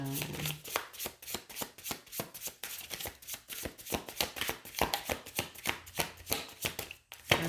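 Tarot cards are shuffled and drawn in a steady, rapid run of crisp riffling slaps lasting several seconds, close and fairly loud, with no speech over them.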